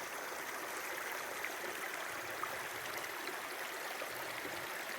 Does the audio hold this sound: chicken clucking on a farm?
no